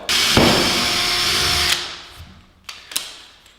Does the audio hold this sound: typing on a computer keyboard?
no